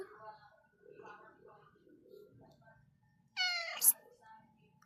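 A cat gives one clear, loud, rising meow near the end, preceded by soft indistinct talking and quiet background sounds.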